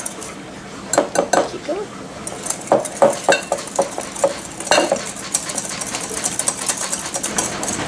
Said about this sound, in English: And now I'm going to whisk together until it is smooth.